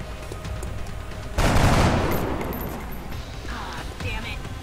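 Gunfire in XCOM: Enemy Unknown erupts as a sudden loud burst of shots partway through, then trails into a rumbling tail and lighter battle noise, with game sounds running beneath throughout.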